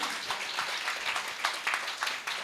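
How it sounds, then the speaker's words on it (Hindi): Clapping from a gathering at a Digambar Jain temple ceremony, soft and somewhat distant, a steady patter of many hands with small bursts throughout. "एक बार जोरदार तालियां"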